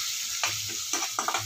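Mustard seeds, cumin and a roasted masala fry in oil for an aubergine dish, a close hiss broken by a few quick stirring scrapes and small pops.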